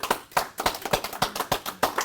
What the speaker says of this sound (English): We'll give you an applaud in advance.